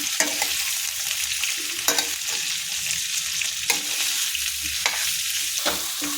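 Onions fry loudly in hot oil for a stuffed brinjal curry, a constant close sizzle broken by regular stirring scrapes roughly every second.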